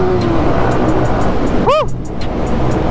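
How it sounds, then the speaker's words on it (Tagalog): A loud motorcycle engine roars close by in heavy city traffic near a tunnel, a constant dense drone with a short rising-and-falling tonal whoop partway through. "Ang ingay ng motor star!"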